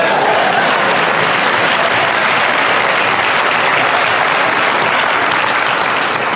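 Audience applause during a motivational lecture, loud continuous clapping that fills the whole span evenly, dense and hissy without breaks or voices.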